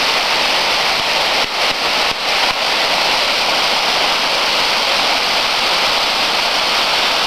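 Waterfall rushing in a steady, loud, broadband roar that holds unbroken throughout, with a couple of faint brief dips but no voices over the continuous falling water.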